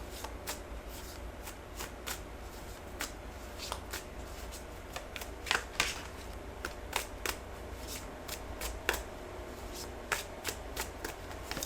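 A deck of tarot cards is shuffled by hand over and over in soft, close riffles and slaps at an uneven rhythm against quiet room tone.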